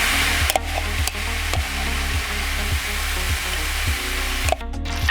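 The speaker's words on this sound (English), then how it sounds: "My pan's on high heat. I stir the veg regularly to make sure it doesn't burn or stick." Vegetables fry in a pan on high heat with a steady loud sizzle, while a utensil clacks and scrapes against the pan at regular intervals as the veg is stirred.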